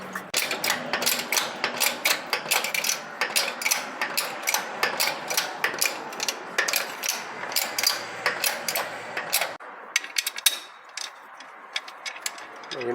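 A hand ratchet tightens the bolts on metal-sleeved suspension bushes of a Mitsubishi Triton, Pajero or Hilux, giving rapid, close, repeated clicking strokes in a steady rhythm that pause briefly before a few more clicks.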